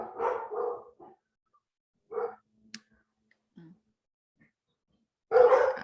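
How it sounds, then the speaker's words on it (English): Several dogs bark indoors in agitated bursts at another dog outside a window, with a loud cluster at the start, a shorter bark mid-way and a big close burst at the end, separated by quiet gaps. "I don't know if you can hear my dogs."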